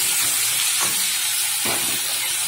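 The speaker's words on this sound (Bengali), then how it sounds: "তেল গরম হয়ে গেছে, এবার আমি ক্যাঁকড়াগুলো দিয়ে দিচ্ছি।" Crabs fry in hot oil in a wok, a loud, constant hiss of spitting oil with two brief surges, close up and unbroken by voices.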